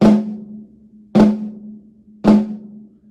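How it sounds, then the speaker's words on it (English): Flams struck on a snare drum, three sharp strokes about a second apart, each leaving a short ringing tail, loud and close with no voices. "So a flam obviously would sound like this"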